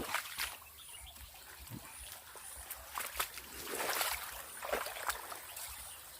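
A small stream trickles and burbles steadily outdoors, with occasional soft splashes and faint insect or bird chirps in the background.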